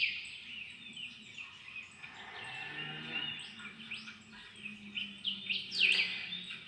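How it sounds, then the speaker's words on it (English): Birds chirp and call intermittently in the distance, with faint sharp tweets layered over a soft, steady outdoor background. "just listen to the lovely birds"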